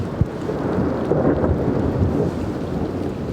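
A deep, rumbling roll of thunder from a lightning strike close overhead fills the air, with wind buffeting the microphone and rain in the background; no one speaks.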